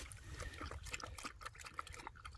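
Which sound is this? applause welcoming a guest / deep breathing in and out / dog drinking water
dog drinking water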